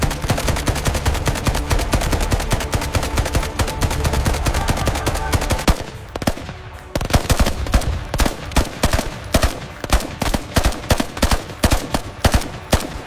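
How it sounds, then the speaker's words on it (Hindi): Suppressing fire in an army battle: dense, loud bursts of automatic gunfire pour out, break off for a brief moment, then resume as rapid, distinct shots in quick succession. "We need suppressing fire now."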